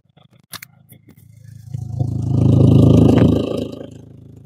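An abandoned Audi TT 8N with a big turbo, microphone placed near the rear exhaust, gives a light throttle blip: a few clicks and a short rasp, then a deep exhaust swell that rises, holds and fades.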